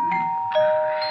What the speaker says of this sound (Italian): È mezz'ora che stanno suonando alla porta.